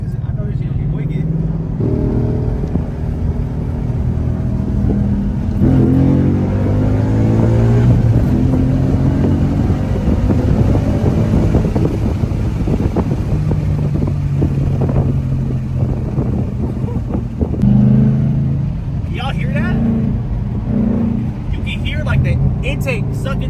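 A Ford Mustang GT fitted with a Cobra Jet intake manifold accelerates hard from inside the cabin, the engine note climbing and shifting through gears as a steady loud drone, with people talking over it throughout.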